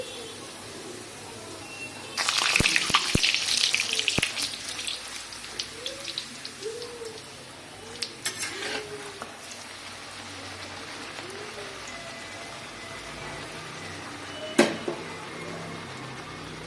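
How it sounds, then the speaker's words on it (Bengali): Aloo parathas go into hot oil in a pan with a sudden burst of bright, crackling sizzle, then settle into a softer, steady fry with a few more pops. A faint voice is heard now and then. "তেল গরম হয়ে গেছে, পরোটাগুলো ছেড়ে দিচ্ছি।"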